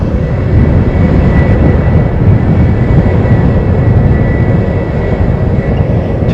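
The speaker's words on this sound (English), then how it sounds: "Air New Zealand has gotten the ATR's going to sneak out ahead of Jetstar as well." Steady, loud engine rumble of an Air New Zealand ATR turboprop taxiing at an airport, a continuous low drone with propeller hum that holds for several seconds, close by and with no talk.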